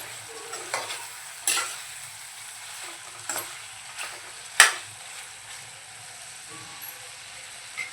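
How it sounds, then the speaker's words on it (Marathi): Mutton sizzling in its own released oil in an uncovered pan for Malvani sukka, a low steady fry broken by several sharp scraping stirs, one especially loud clank near the middle. "हे पहा छान तेल सुटायला सुरुवात झाली. एकदा आपण फिरवून घेऊया."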